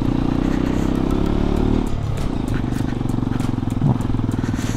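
A Hero Xpulse 210 motorcycle climbs an off-road hill trail, its engine droning loud and close, easing off briefly and then pulling again amid gravel clatter and wind buffeting.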